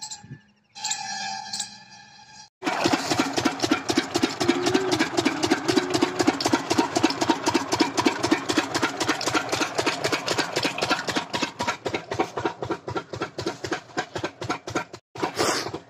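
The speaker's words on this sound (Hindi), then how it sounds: "और अब ये इंजन चला रहे हैं" A diesel pump engine runs at a steady idle, pumping water through a pipeline to a potato field; a dense, rapid mechanical chugging starts after a brief pause and continues loud and close.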